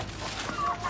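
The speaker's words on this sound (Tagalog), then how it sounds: "Yung mga manok natin guys." Brief soft clucking of chickens close by, a couple of short rising calls over a low background murmur.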